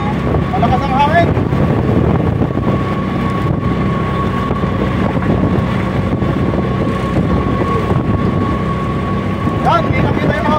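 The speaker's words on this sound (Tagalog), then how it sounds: "Malakas ang hangin." Strong wind buffets the microphone on the Villa Verde Trail near Malico in Pangasinan, mixed with the drone of a tuk-tuk motor. The roar is loud and continuous, and a voice speaks briefly over it.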